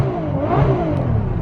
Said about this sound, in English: let me give you guys a quick rev.